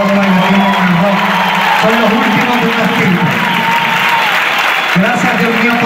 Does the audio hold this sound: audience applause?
yes